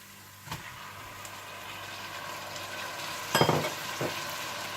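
Tomatoes hit a pan of ginger and garlic in a home kitchen for aloo gobi, giving a soft steady sizzle with a few clinks and a louder scrape of stirring near the end; no speech.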